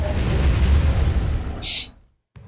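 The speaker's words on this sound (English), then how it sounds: "making a barrel explosion happen when you push a button" An exploding barrel in the video game Doom (2016) Snapmap bursts into a loud, rumbling blast that decays over about two seconds. A brief hissing burst follows, then a short silence before another sound begins.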